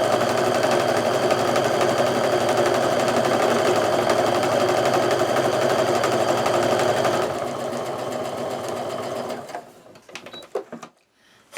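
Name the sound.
sewing machine stitching a quilt block seam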